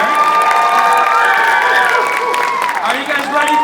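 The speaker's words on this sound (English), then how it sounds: "let's give a round of applause for all our vocalists that are going to come up here" An audience at the LC Idol singing competition claps and cheers for the vocalists, with whoops and shouting over sustained applause; loud and close, with voices mixed into the crowd noise.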